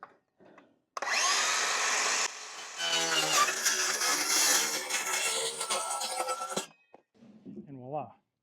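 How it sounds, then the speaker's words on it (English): A power saw cuts a platform board for a 2022 Toyota Tundra backseat, giving a loud, close, harsh whine in two bursts with a brief pause between, then winding down into quieter handling noises. "right now we are just cutting that 35-inch mark."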